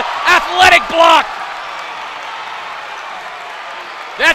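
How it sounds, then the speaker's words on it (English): Basketball crowd at a boys' high school game in a gym, a few loud bursts of cheering and whooping right after an athletic block, then a low murmuring hall, with another short cheer rising at the end. "That's going to get the crowd excited."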